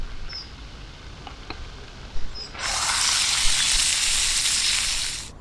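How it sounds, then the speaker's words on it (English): Belly pork on a camping fryer outdoors in freezing weather: faint ticks at first, then a bright, broad sizzle bursts in and holds steady for a few seconds before cutting off. "Cooked on the fryer."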